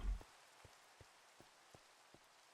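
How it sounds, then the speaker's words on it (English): Steady rain falling in the Minecraft video game, a soft continuous hiss with occasional faint drip-like taps, heard alone with no talking. "There's the rain."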